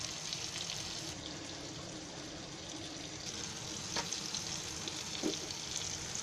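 Garfish (toll fish) fry in a pan, giving a faint, steady sizzle with occasional crackles and pops over continuous low hiss.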